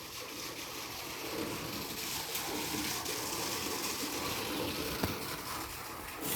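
Borewell water gushing steadily on an eight-acre young coconut farm during a drought, a continuous rushing flow heard close by and unchanging throughout, with no voices over it.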